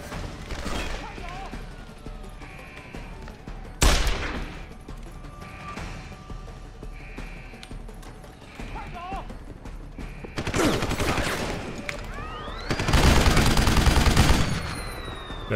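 Heavy machine gun firing in a first-person shooter game: several bursts of rapid loud shots, with the longest sustained volleys near the end, between quieter stretches of game noise.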